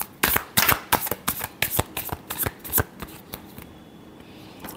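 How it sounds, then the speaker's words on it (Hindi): Tarot cards shuffled by hand in a run of about a dozen quick, crisp riffling bursts, close and fairly loud, slowing and fading out near the end with no talking. "Last shuffle."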